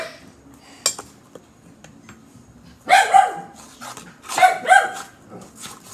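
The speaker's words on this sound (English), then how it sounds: "that's just my little dog. He barks a lot." A small dog yaps in two short bursts of sharp, high barks, close and loud, after a quiet stretch with light clinks of kitchen items.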